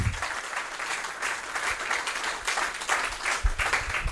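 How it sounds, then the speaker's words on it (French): A church congregation in Béthune applauds together during a service, a steady dense round of clapping that fills the space for several seconds with no talk over it. "Acclamons Jésus-Christ"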